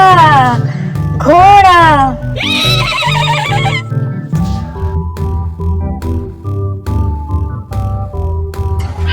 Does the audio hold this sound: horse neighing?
yes